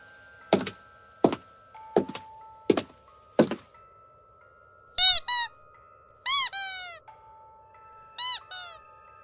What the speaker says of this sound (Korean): 구두 소리와 아이의 삑삑 소리가 나는 신발 소리였다.